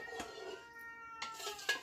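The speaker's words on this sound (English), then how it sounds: "My cats are fighting, as usual." House cats fighting, a drawn-out tonal meow followed by sharper yowling bursts, close and fairly quiet, with no talking over it.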